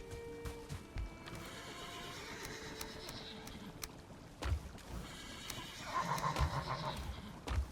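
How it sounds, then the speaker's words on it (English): Horse foals neighing in a video game: several high, wavering whinnies at moderate distance, with hoof clip-clops and scattered thumps, a low hum beneath and no talk. "that sounded like horse offspring"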